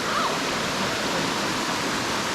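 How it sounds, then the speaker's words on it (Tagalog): A jungle waterfall in the Philippines roars as a loud, steady broadband rush of falling water, close and unbroken, with a faint voice briefly above it. "Wow, first waterfalls."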